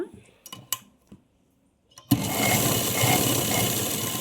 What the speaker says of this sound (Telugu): ఇలా చివరిగా ఒక కుట్టు వేసాం కదా తర్వాత ఇంకో కుట్టు వేయాలన్నమాట